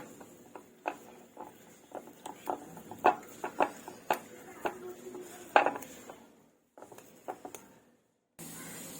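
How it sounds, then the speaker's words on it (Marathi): A whisk beats shrikhand in a bowl, producing a run of quick, close clinks and taps against the bowl in an uneven rhythm that fades out before a short burst of background noise at the end. "मी विस्परच्या साह्याने चांगलं असं फेटून घेते"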